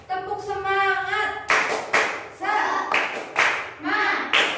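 Grade five schoolchildren chant together and then perform the rhythmic 'tepuk semangat' class clap, clustered bursts of hand claps in a patterned sequence, close and loud, with their voices in between.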